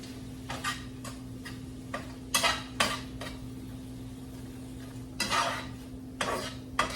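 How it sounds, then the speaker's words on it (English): A utensil scrapes and clacks against a cooking pan as tomatoes are stirred, in a series of short irregular strokes over a steady low hum. Nobody speaks. "give this all a stir and let it cook down"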